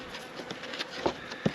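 Bees buzz close by around sugar outdoors in a soft, wavering hum, with a few sharper passes flying near.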